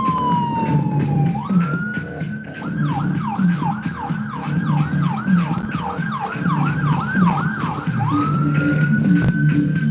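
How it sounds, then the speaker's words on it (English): An ambulance siren wails at a police event at a marina in Norwich, switching from a long rising tone to a fast warbling yelp, with engine rumble and traffic noise underneath. "Is that ambulance coming here?"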